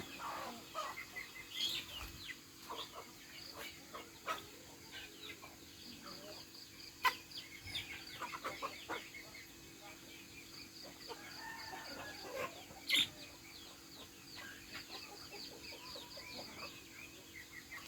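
Farm chickens, hens and a rooster, clucking and calling in a rural rice-farming setting in Laos, with bird chirps and scattered sharp cries over steady outdoor background noise; a voice talks faintly at times.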